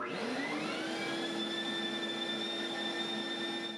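An electric fan runs for an airflow test on a Dust Deputy dust cyclone setup, spinning up with a rising whine and settling into a loud, steady whirring roar with tonal hum, close and uninterrupted.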